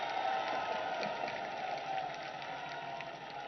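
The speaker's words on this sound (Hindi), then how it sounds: "एक बार योगी जी की तालियों के गड़गड़ाहट से स्वागत करिए मित्रों" A large crowd of BJP workers celebrating an Uttar Pradesh election win applauds and cheers to welcome Yogi, producing a dense, unbroken wash of clapping that holds steady and slightly muffled for the whole stretch.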